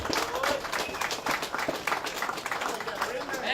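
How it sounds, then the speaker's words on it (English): A crowd at a pro-Adani rally in Clermont applauds Pauline Hanson, and the clapping swells in uneven waves at moderate volume. Crowd noise runs underneath the applause. "she deserves a very good, rousing round of applause"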